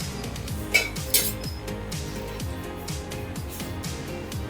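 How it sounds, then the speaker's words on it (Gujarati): A frying pan clinks and knocks with a few sharp metallic taps while cooking oil is added for shallow-frying potato tikki, over a steady low kitchen hum. "ટીકી શેકવા માટે આપણે પેનમાં 2 ચમચા તેલ નાખશું"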